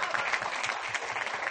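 Audience at a Hindi poetry recital (kavi sammelan) in Surat breaks into brisk, dense applause, a short continuous burst of many hands clapping.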